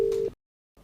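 A phone busy tone after a call is cut off: a single steady beep lasting about a third of a second, then silence, and the next beep just beginning, clear and close.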